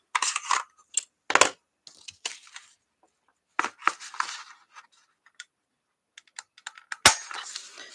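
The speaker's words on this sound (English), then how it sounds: "I'm going to go ahead and punch the side here." A handheld hole punch snaps through paper envelopes while crafting a junk journal, giving a series of sharp, close clacks and crunches spaced irregularly, with one loud punch near the end.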